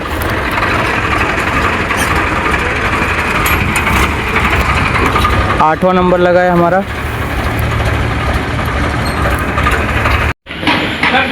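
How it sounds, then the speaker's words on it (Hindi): Tractors stand idling at a mustard grain market, a steady engine rumble beneath close talk, with a brief tonal vehicle sound midway and a sharp cut near the end. "ये पूरे खड़े हुए हैं ट्रैक्टर वगैरह।"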